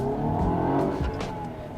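Mercedes-Benz C300 AMG accelerating on a wet road with traction control on, a close engine roar rising under load with brief tire-on-water hiss, continuous and loud.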